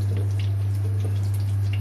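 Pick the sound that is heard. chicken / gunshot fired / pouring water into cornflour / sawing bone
pouring water into cornflour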